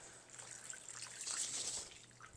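Water trickles and splashes steadily from a reservoir into seed trays at close range, a continuous gentle pour with no talking.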